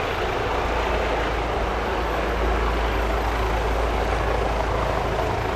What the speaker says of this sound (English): Helicopter's coming over.